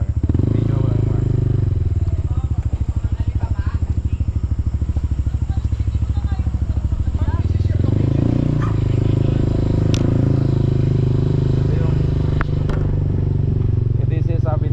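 A motorcycle riding uphill toward a private resort, its engine droning steadily and close for the whole stretch with rattling and clatter, while a rider's voice talks over it now and then.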